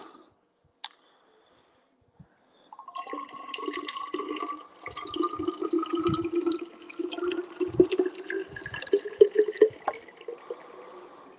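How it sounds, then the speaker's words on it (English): Water runs steadily from a tap as a container fills, a continuous splashing stream that starts after a couple of seconds of quiet with a few clicks, building slightly in tone and loudness as it goes. "Just going to fill up some water here."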